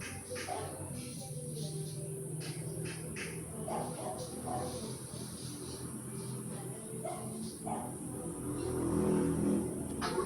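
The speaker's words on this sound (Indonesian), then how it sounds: "ada suara motor lagi" A motorcycle engine rumbles past, a low continuous drone that swells toward the end of the clip, with faint background sounds and no clear speech.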